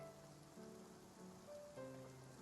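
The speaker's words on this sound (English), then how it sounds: "Like, oof, it's all raining and everything." Steady rain in the video game Spiritfarer, a dense continuous patter on surfaces heard quietly throughout under soft background music, with no voices.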